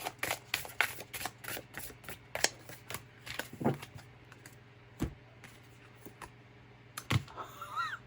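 Tarot and oracle cards being shuffled by hand, quick riffling bursts and soft taps in irregular clusters, quiet and close, with no voices.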